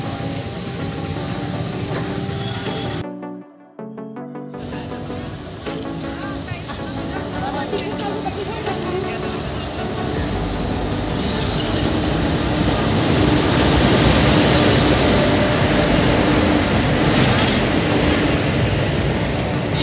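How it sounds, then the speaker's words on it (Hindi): A train pulls into a station at night with a steady rumble and hiss that grows louder and fuller in the second half, broken by one brief dropout, while people talk nearby. "तो गाइस अभी ट्रेन आ चुकी है"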